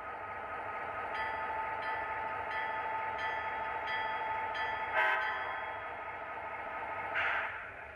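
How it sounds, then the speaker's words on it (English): NJ Transit Raritan Valley Line train pulling into Hillside station on track 1, a steady rumbling drone of engine and wheels with two brief brighter bursts near the end, no voices. "Now arriving from Newark on track 1, train number 5413, the Raritan Valley Line."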